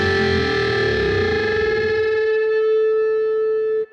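A distorted electric guitar holds a loud, sustained string bend, with the bent B-string note wavering and fluttering against a fretted note until the two settle into one steady tone that stops abruptly.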